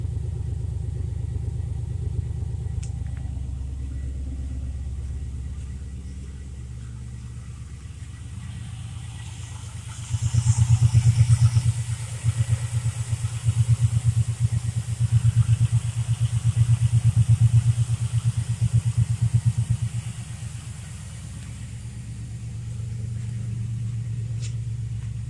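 Engine of a 2002 Pontiac Trans Am Collector Edition running cold, a steady low idle rumble that rises into a louder throaty rev for about ten seconds before settling back, close and without talk.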